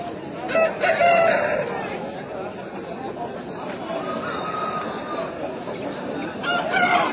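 A rooster crows nearby at a busy Sunday market in Pileru, over the murmur of background voices and clucking fowl, with another brief crow near the end.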